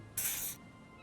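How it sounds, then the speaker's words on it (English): Pheromone spray hisses from a canister in Disco Elysium, one steady burst of about half a second, loud and alone. "He douses you with the odd smelling spray, a double helping as you present your other armpit"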